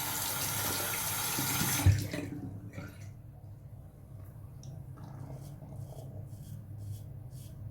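A bathroom tap runs loudly while shaving gear is rinsed, then shuts off abruptly, leaving quiet room tone with a few faint drips and small handling sounds.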